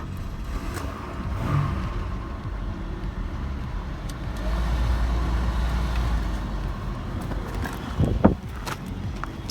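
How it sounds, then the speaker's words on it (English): A Chevrolet Malibu engine runs steadily at idle on a cold start, a low continuous rumble with a slightly louder stretch midway and a brief sharp knock near the end. "It's got the classic, a little bit loud on a cold start,"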